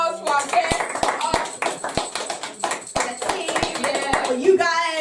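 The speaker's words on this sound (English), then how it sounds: "we're just gonna have a round of applause for our guests" A small group at a podcast wrap-up party claps for their guests, sharp, uneven hand claps spread over several seconds, mixed with cheering and excited voices talking.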